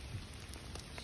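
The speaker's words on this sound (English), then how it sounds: "You can definitely hear the rain, which is not helping this cause" Steady monsoon rain falls outdoors around a custom smoker being built, a quiet, even hiss of drops on surfaces with no voices, close but soft throughout.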